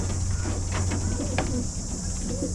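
A racing pigeon coos softly in a loft, a brief low call over steady background hum and faint ambient noise.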